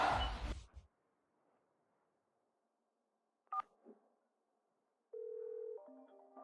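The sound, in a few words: telephone being dialed for a call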